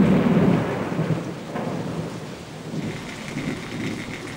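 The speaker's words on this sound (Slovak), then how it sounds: "Búrka mohutnie a hromy a blesky prehlušia neuchabujúci prudký dážď." Heavy thunderstorm with steady, loud downpour on wet surfaces and rolling thunder rumbling underneath, continuous throughout with no voices, recorded in the Chernobyl exclusion zone.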